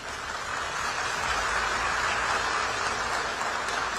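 A crowd claps continuously in a dense, steady wash of applause, fairly loud and even throughout with no pauses.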